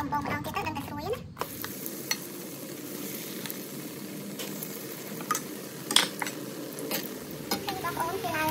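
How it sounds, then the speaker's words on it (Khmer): Crab meatballs deep-fry a second time in hot oil, giving a steady, close bubbling sizzle. Occasional utensil clinks and stirring knocks sit over the top, and a brief louder clatter opens the sequence. "ហើយយើងយកទៅបំពងម្ដងទៀតទៅដល់តែស្រួយណា"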